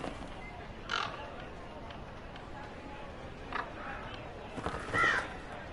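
Crows cawing in the fantasy video game Dragon Age: Inquisition, a few scattered caws over a quiet ambient backdrop, one near the start and louder calls near the end.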